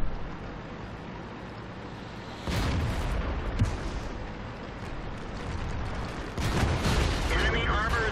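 An SU-152 tank destroyer's heavy cannon in World of Tanks booms twice, loud and close, the blasts rolling out with a long rumbling decay over the constant battlefield din.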